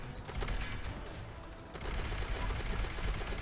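Rapid bursts of Quad Lucky Railway Rifle fire in Fallout 76, dense and loud throughout with a brief lull mid-way before a heavier stretch of shots.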